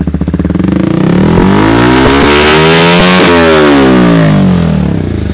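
Yamaha MT-15 motorcycle fitted with an aftermarket exhaust, loud and close, starting at a steady idle before the throttle is blipped into rising and falling revs that sweep up through several pulses and settle back.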